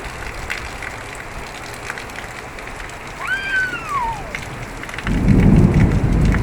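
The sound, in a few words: thunderstorm with rain and thunder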